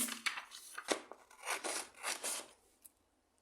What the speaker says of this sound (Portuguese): eu vou recortar essa folha aqui